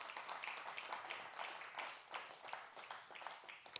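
A church congregation claps and applauds at a Spanish-language Thursday worship service, a fairly steady, dense patter of many hands at moderate distance, with a sharp louder clap near the end.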